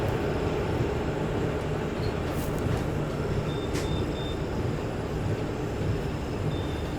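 Kashi Mahakal Express running past the halted Archana Express, a steady low rail rumble from inside the moving train with a few brief high squeals and clicks, no voices.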